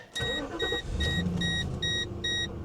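A 1997 Mercedes E420 V8 cranks and catches, settling into a steady idle while a repeating electronic warning chime beeps over the engine, close and fairly loud.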